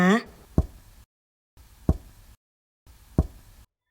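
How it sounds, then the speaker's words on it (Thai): A pen knocks on an office desk in three sharp, evenly spaced taps separated by silences, loud and close, with a brief voice at the very start. "เสียงปากกาเคาะลงโต๊ะทำงาน"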